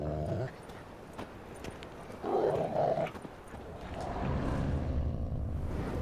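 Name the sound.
dogs in The Witcher 3 video game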